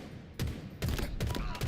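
Bursts of rapid video game gunfire from a shock rifle, four loud volleys in quick succession, each sharp and crackling, close up with no voices.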